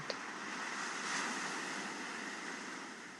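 Calm ocean waves wash in a steady, soft roar of surf, even and continuous with only gentle swells in loudness and no voices.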